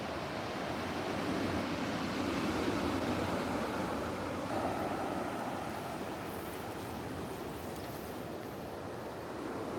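Ocean surf rolls in along the Hualien seashore, a steady broad wash of breaking waves with light wind across the microphone, continuous and fairly close with no voices.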